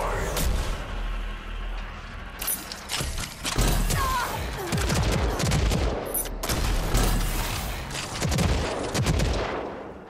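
Rocket launches and heavy gunfire in the video game Rage 2, with repeated loud bursts and blasts that keep going over a busy, dense combat background.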